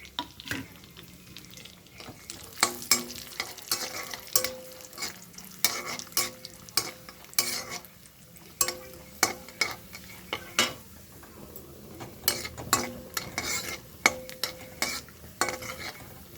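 Raisins roasting in a pan for sweet semiya kesari, a steady soft sizzle broken by repeated sharp scraping stirs of a utensil against the metal, close and alone with no voices.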